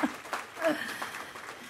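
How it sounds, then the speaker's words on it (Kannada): An audience applauds at a Kannada stage performance of Torave Ramayana, a short burst of clapping with speech-like sound mixed in. "ಒಂದು ದೊಡ್ಡ ಚಪ್ಪಾಳೆ ಹಾಕ್ತೀರಾ?"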